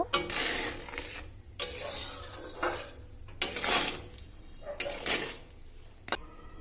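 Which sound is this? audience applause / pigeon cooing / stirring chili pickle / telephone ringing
stirring chili pickle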